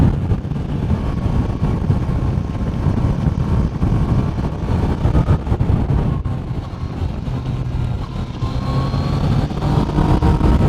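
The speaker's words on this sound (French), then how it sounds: "En fait le moteur fait un drôle de bruit." Yamaha Niken three-wheeled motorcycle engine accelerating while riding, a continuous close rumble mixed with wind buffeting at speed.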